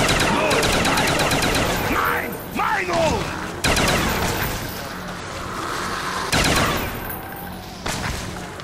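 Gunfire blasting zombies in a co-op video game, with loud rattling bursts and heavy shots that break off and resume several times, while players shout and talk over the action.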